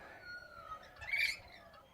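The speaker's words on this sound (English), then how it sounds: "we have noisy birds. Can you see them? Rainbow lorikeets." Rainbow lorikeets give shrill, scratchy screeches rising to a brief louder burst midway, set against a quiet garden background with no talking.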